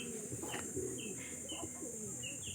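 Young racing pigeons at a loft landing board cooing softly, with a few faint chirps and brief rustles, heard steadily against a constant background hiss.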